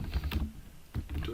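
Someone types on a computer keyboard to start a Python program. A few quick, quiet key clicks come in two short bursts.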